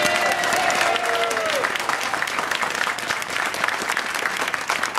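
Steady audience applause fills a room at an LGBT housing event in Philadelphia, honoring Philadelphia Gay News publisher Mark Segal; dense, loud clapping holds for the whole stretch, with a brief whistle-like tone early on.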